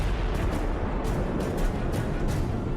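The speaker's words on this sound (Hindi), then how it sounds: "देखिए एक टेस्ट के दौरान जब इसके धमाके को रिकॉर्ड किया गया तो क्या क्या दिखा" A HIMARS rocket detonating during a test, heard as a dense, sustained roar of blast noise with repeated sharp bursts and cracks throughout, loud and without voices.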